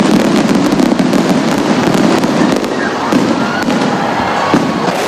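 A New Year fireworks display in Pasay City: a dense, continuous crackle of bursts and pops, loud and close, with a faint crowd murmur beneath.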